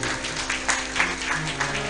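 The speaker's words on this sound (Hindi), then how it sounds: "इसलिए जोरदार तालियां इनके लिए" An audience at a Hindu religious katha gathering applauds a chairman and supporter, a short burst of crowd clapping over a steady musical drone.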